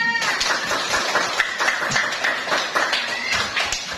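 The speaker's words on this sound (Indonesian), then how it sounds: "Tepuk tangan untuk kita semua." Classroom applause after students sing a national song together, a steady patter of many small hands clapping at close range for about four seconds, with faint voices mixed in.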